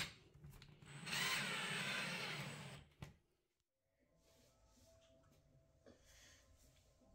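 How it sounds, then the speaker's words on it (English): A power drill drives screws into a wooden radiator cover in one loud burst of about two seconds, then a short knock, then quieter handling noise and faint rustling. "Then I carefully attached all the screws, making sure I don't go through the wood."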